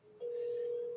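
A telephone line rings out over a phone connection, one steady continuous tone that starts abruptly and holds at even loudness close to the listener, with a quiet murmur underneath before it begins.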